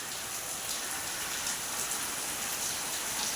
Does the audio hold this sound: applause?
no